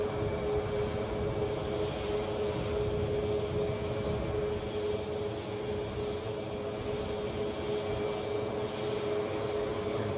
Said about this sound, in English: A350 in Qatar Airways colours, coming our way